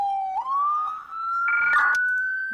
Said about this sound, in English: now you can hear it, that our ambulance is rolling up now.